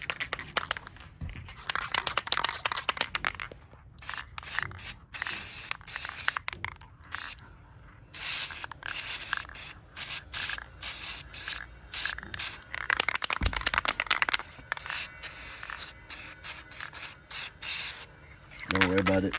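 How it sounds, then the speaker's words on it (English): Aerosol spray paint hisses in repeated bursts of varying length while insulation material in a new home is coated, the short sprays broken by gaps and faint crinkling. "So I'm gonna spray paint this."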